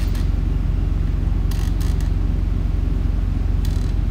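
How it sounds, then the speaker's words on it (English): A torque wrench tightens lug nuts on a Freightliner Cascadia truck tire, giving a few brief sharp clicks over a steady, loud low engine rumble that runs throughout. "Here they are torquing the tire. That's a torque wrench that they use."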